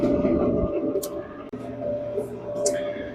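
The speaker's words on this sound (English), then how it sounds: "this is what your dryer should sound like after replacing those parts" A repaired Samsung clothes dryer runs with a steady, even mechanical hum and drum rumble, close and continuous, with a couple of brief higher hisses but no squeaks or banging.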